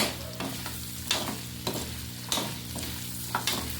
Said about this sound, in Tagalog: Mix na natin siya together.